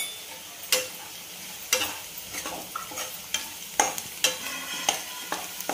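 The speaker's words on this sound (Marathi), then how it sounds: "छान तेलावर परतून घ्यायचं" Chili powder, Kashmiri red chili powder and coriander powder sautéing in hot oil, with a spoon scraping and stirring in repeated sharp strokes over a soft background sizzle, close and fairly quiet with no talking.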